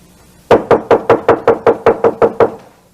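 Someone knocks on a door, eleven sharp evenly spaced raps in a quick steady run, loud and close with no talk.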